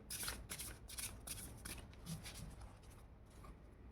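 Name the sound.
tarot cards being shuffled and drawn from a deck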